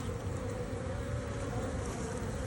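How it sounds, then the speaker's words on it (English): Honey bees buzz steadily around an open Long Langstroth beehive, a dense continuous drone that stays even and fairly faint throughout, with no voices. "get all the bees out of here"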